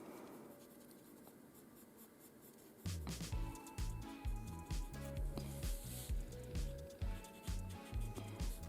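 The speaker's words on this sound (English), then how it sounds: "I'm using here the paper stamp." A paper blending stump rubs and blends pencil on paper in a drawing of a mandarin, first faint then turning into rhythmic, close scratchy strokes repeating every half second or so.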